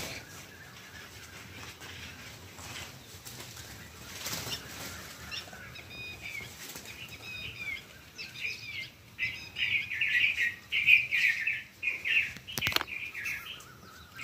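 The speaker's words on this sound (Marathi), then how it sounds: "इतके आरडत होते पक्षी." Birds call in repeated high chirps and short trills at dawn in fog, faint at first and then growing busier and louder toward the end over a quiet outdoor background.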